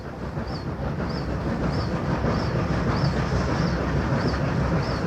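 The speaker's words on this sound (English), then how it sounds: "the first challenge for the two 38-class locomotives hauling the Western Endeavour." Two 38-class steam locomotives haul the Western Endeavour up a steep grade, producing a loud, steady, heavy rumble with faint regularly repeating beats throughout.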